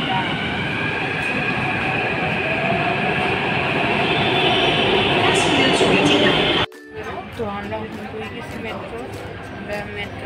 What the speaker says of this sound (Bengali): আমরা এখন মেট্রোর অপেক্ষা করলাম